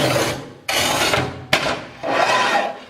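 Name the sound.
tile cutter wheel scoring tile, Montolit Masterpiuma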